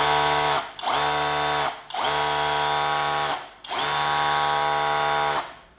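A cordless jet cleaner with a brushless motor runs in three long bursts separated by short pauses, giving a loud, high-pitched whine close up.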